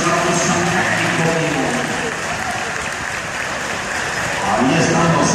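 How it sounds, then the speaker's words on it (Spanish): A crowd at a charro event in Mexico claps and cheers in a broad, sustained wash of applause that stays loud throughout, swelling again toward the end. "recibir el aplauso del público"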